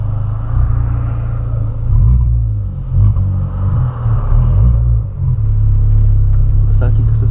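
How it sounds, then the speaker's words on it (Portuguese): A Volkswagen Polo with an aftermarket exhaust rumbles loudly up close, revving and surging in waves with a deep throaty exhaust tone. "Isso é tipo o escapamento que eu coloquei"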